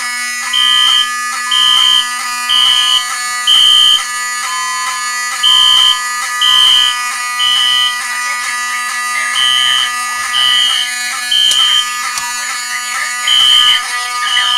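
Potter PFC 4064 fire alarm system sounding after a Simplex pull station is activated: a loud, steady electronic buzz with a pulsing high horn tone repeating in regular bursts of about a second, alone without voices.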